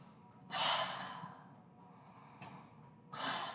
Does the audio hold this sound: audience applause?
no